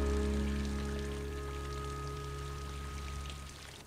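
Cartoon rain falls on a rainy day in a steady, soft, pouring hiss, with a faint constant hum beneath it and no voices.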